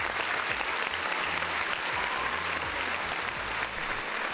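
Steady applause, apparently a stock or sound-effect clapping track rather than a live room, fills the whole stretch at an even, dense level with no voices over it.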